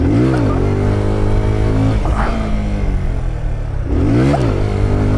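A motorcycle engine drones loudly and close as it is ridden, with its pitch dipping and rising through the revs, gritty texture hinting at rear-wheel skids.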